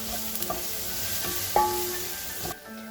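Garlic and ginger fry in a small amount of oil for beef pulao, a steady close sizzle broken by a few scraping stirs and clinks of a spoon against the pot.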